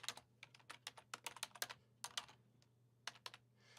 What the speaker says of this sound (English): I'm gonna type it in here